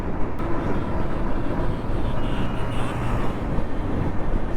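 A train passing close by on a North Bengal line near Sittong, heard as a steady, loud, broadband rumble and rattle of rolling wagons that fills the whole span without pause.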